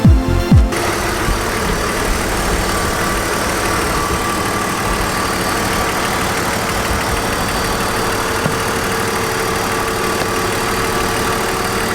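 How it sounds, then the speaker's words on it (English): A BMW Z4 V6 idling with the hood open, a steady, even, close-up engine drone that holds for the whole stretch after a brief clunk at the start. "You know, the engine sounds good, you know, running wise."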